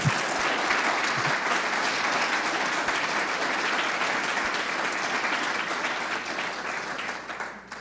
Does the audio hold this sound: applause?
yes